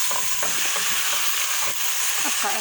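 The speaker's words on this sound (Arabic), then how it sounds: "أقلب بيهم لحد ما يتغير لون الدجاج." Chicken pieces are stirred in a pot with whole spices such as bay leaves, cardamom and cinnamon for chicken kabsa, giving a continuous close sizzle with repeated soft scraping strokes throughout.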